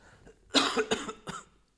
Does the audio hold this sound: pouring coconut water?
no